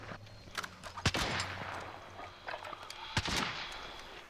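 Gunfire in Call of Duty Warzone, a handful of sharp shots and short bursts at irregular intervals, moderately loud with echoing tails over quiet game ambience.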